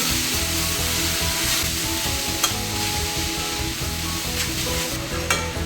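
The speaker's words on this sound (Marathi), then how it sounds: "हे मिश्रण घालायचे एकदम मंद आचेवर आपल्याला हे व्यवस्थित भाजून घ्यायचे" Garden cress seed laddu mixture dry-roasting in a pan over very low heat, giving a steady close scraping stir and soft sizzle that runs throughout with a few sharper clicks of the spoon against the pan.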